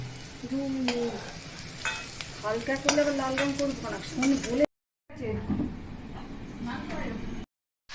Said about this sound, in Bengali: মাংসটাকে এবার ভেজে নেওয়া হচ্ছে ভালো করে মাংসটা